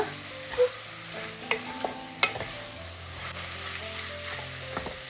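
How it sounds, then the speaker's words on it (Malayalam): Masala for egg curry being stirred in a pan, a spoon scraping and clinking with a few sharp knocks over a steady low sizzle of frying, close up and alone without any talk. "അപ്പം എല്ലാം കൂടി ഇതാ ഒന്ന് ഇളക്കി കൊടുത്തിട്ടുണ്ട്"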